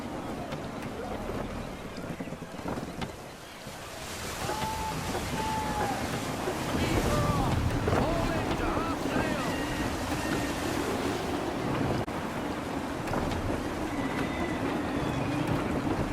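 Wind and waves rush steadily around a sailing ship at full sail in the video game Assassin's Creed 3, forming a continuous, moderately loud wash of surf and gusts with faint tonal sounds drifting over it.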